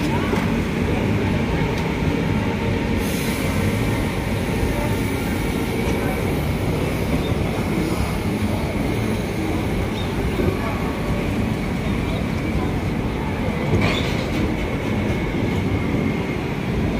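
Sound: Humsafar Express train departing station

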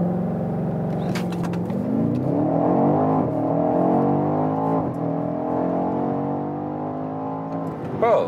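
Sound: 625 hp BMW X5 M or X6 M Competition accelerating

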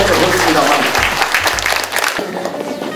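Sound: audience applause

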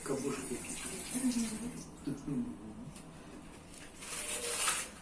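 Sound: water running while something is washed

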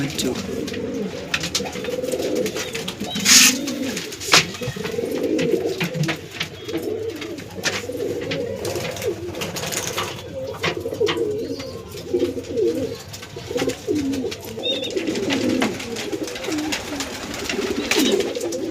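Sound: pigeon cooing

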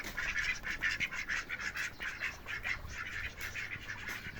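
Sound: ducks quacking

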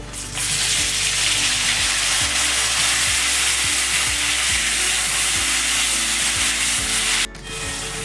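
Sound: chopped tomatoes frying in oil

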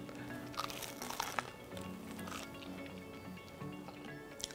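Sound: biting into a black bean burger

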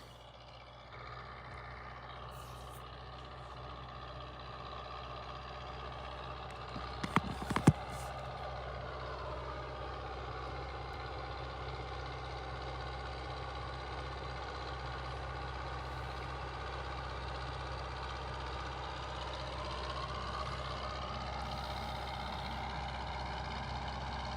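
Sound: tractor engine running in field

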